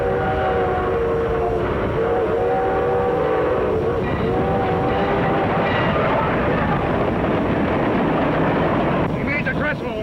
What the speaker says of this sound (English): We'll have to wait till the train gets by